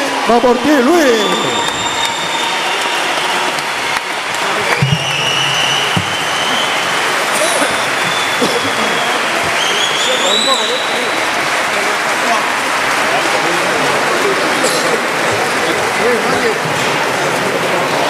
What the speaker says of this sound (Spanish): aplauso por ti, Luis.